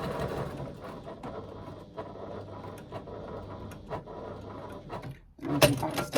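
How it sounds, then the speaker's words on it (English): A Classico Mk2 sewing machine stitches a short seam in fabric with a quiet, steady mechanical whir and soft ticking, then a louder clunk just before it stops. "So I'm going to stitch from that 3/8 of an inch mark in for approximately 2 inches"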